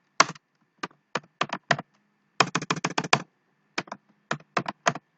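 Code typed on a computer keyboard, bursts of crisp close clicks, some single and some in quick runs of several keystrokes, separated by short silences, with no talk.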